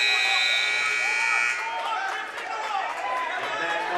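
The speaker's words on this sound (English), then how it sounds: "Buzzer sounds here on mat 3" A loud electronic buzzer ends a high school wrestling match on a mat, blaring for about a second and a half, then giving way to crowd chatter echoing in a large hall.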